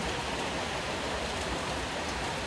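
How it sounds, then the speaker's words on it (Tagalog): Heavy rain falling at night, a dense, steady roar of downpour with no breaks, loud and close throughout. "Yan ang lakas ng ulan."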